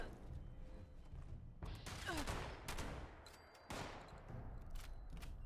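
Enemy gunfire in the video game Fallout 76: several sharp shots spaced irregularly across the span, each a loud broadband crack with a short tail, over a continuous low game rumble.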